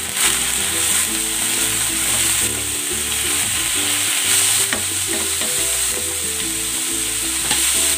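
Beef and onions sizzle and fry in a pan while being stirred for braised beef, a steady close crackling hiss with scraping stir sounds and no talk.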